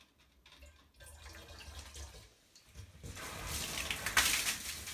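Water runs from a tap for a baking soda experiment, a soft broadband hiss that starts faintly, builds and grows louder and fuller over the last couple of seconds, close by with no talking.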